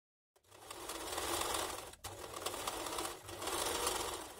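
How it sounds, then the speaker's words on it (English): A sewing machine stitches two collar pieces together at the centre back in three fast, even runs with brief pauses between them, close and clear. "Sew the center back of the collar pieces together."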